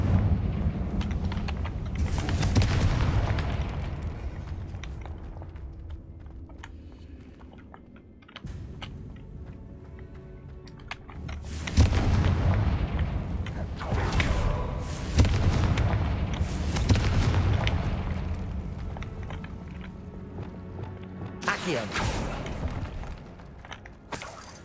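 Confringo blasting spell explosions in the Hogwarts Legacy video game, several loud booming bursts with crackling debris tails, spaced across the stretch with a quieter lull in the middle.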